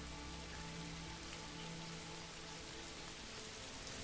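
Rain falls in the medieval village-building game Manor Lords, a soft, steady hiss of drops across the settlement, faint and continuous with no voices.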